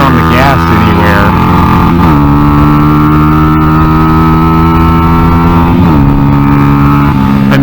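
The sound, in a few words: Honda NSF100 motorcycle with XR100 engine hitting rev limiter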